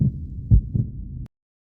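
A heartbeat effect in an audiobook: a few low, muffled thumps in a steady rhythm, loud and close, ending abruptly in silence.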